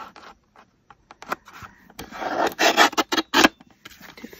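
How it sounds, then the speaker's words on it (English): Colored paper being trimmed to size, a few soft rasping cuts and rubbing strokes up close, scattered at first and then a denser burst of scraping before trailing off. "So let's trim this down"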